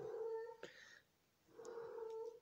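A mother cat calling to her kittens with two drawn-out, tonal meows separated by a short pause, close and fairly quiet indoors.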